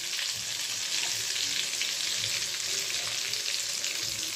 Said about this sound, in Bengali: আমি এইভাবেই ভেজে নেব ধোকাগুলি সব।